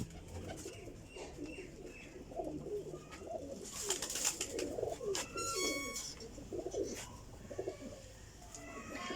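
Ferozpuri pigeons, including a female, coo softly in repeated low throaty phrases, with a few faint chirps and light background rustling throughout.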